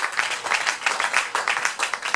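Sunday church congregation clapping and cheering in praise, a thick, continuous wash of applause with regular rhythmic peaks, near and sustained without pause.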